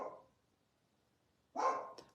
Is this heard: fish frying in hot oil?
no